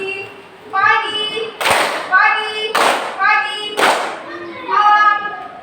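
Children clap together in a classroom clapping game, three sharp bursts of group claps spaced about a second apart, with a teacher's voice chanting between and around them.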